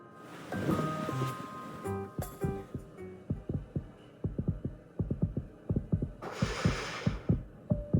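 Heartbeat effect from the game Love and Deepspace: soft, rhythmic double thumps pulse steadily in the foreground under a low hum, with a few tonal chimes at the start and a brief airy swell near the end.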